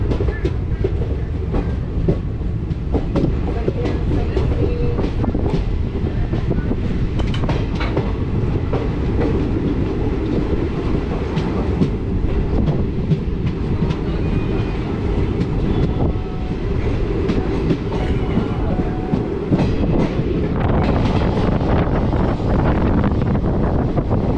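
The Ernad Express passenger train runs along the tracks after rain, with a loud continuous rumble, rhythmic clatter of the wheels and gusty wind buffeting the microphone throughout.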